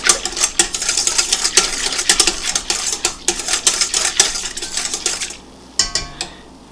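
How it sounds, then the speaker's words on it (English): Yeast being stirred into warm milk in a bowl, a utensil scraping and clinking against the sides in quick repeated strokes, close and fairly loud, with a short pause and a few final taps. "And I'm going to stir it."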